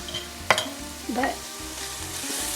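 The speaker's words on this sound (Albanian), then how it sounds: "trazojmë mirë tani dhe do ta lëm si thash që qepa të marrë kohën e vet për të skuqur" Onion frying in a little oil in a pan, a continuous close sizzle with a couple of scraping stirs, heard alone without talk.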